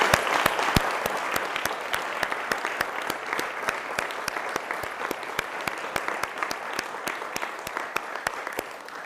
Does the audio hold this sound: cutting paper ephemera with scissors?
no